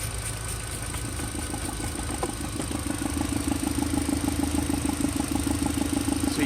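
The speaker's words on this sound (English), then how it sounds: "So you can hear the exhaust pulses" Exhaust pulses puff from the tube of a secondary air injection combi valve held open under vacuum, a close, rapid, even ticking throb over a running engine's idle hum that grows more distinct midway.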